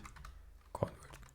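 A short burst of computer keyboard typing, a few soft quick keystrokes with one louder click near the middle, quiet and close in an otherwise hushed room.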